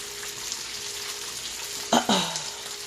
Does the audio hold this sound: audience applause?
no